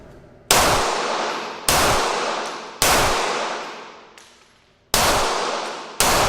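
Five sharp, loud gunshots at a shooting range, spaced unevenly about a second apart, each with a long ringing decay that fades before the next.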